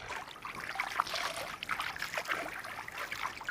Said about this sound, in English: Have water that's draining out of the bottom of the fountain